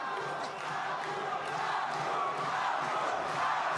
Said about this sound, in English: Crowd just at a fever pitch here in Germany.